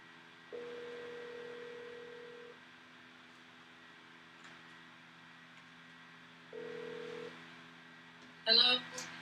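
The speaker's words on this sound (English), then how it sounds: "let me see if I can get her on speakerphone here" Ringback tone of a phone call on speakerphone: two long, steady electronic rings separated by a pause, and a brief voice answers at the end.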